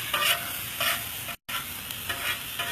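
Meat and onions for Philly cheese steak sizzling on a hot cooktop, steady loud frying hiss with periodic spatula scrapes and a brief dropout midway, no voices.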